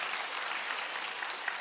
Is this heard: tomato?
no